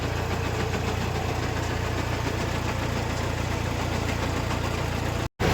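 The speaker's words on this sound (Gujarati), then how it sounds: "આપણે જઈએ હવે ટ્રેક્ટર લઈ" A tractor engine runs steadily and loud throughout, a constant low rumble with a knocking idle quality, broken by a brief cutout near the end.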